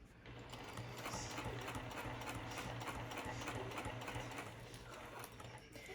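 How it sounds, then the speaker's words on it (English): Sewing machine stitching a quarter-inch seam through slippery vinyl on a zipper pouch, running slowly over a thicker tab; a steady, continuous mechanical whir and needle chatter fills the whole stretch at moderate level. "And we're going to be stitching over that tab, so it's a little thicker there."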